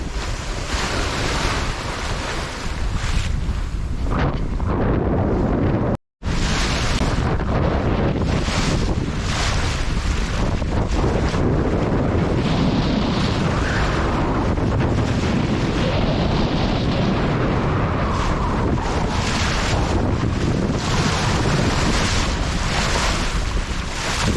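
Big sea waves crash and roar against a Rival 32 sailboat under way, with strong wind buffeting the microphone in a loud, continuous rush broken only by a brief dropout.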